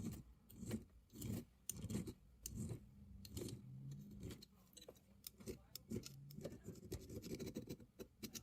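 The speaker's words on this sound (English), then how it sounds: "on the outside of the ring, I'll use a file to smooth everything out" Hand file smoothing the outside of a cast engagement ring, a close series of short raspy strokes with irregular rhythm and brief pauses, fairly quiet with some light handling clatter.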